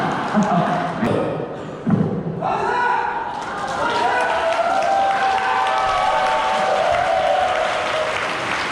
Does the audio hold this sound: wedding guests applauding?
yes